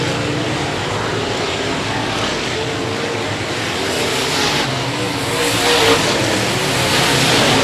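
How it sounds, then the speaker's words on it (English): Race cars circle the Heart O Texas Speedway, their engines roaring as a continuous loud, layered drone that swells as a car passes close by. "Eric Tomlinson now looking to take over third"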